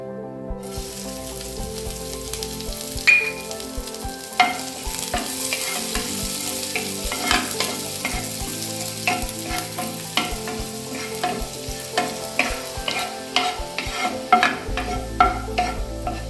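Fresh neem flowers fry in ghee in a pan, with a continuous soft sizzle and repeated light scraping clicks from stirring that grow busier toward the end.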